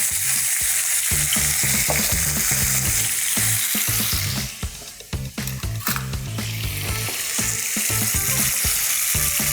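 Chicken pieces frying in a pan, a loud, close, continuous sizzle with crackling spatter that briefly dips midway as the pieces settle, then swells again.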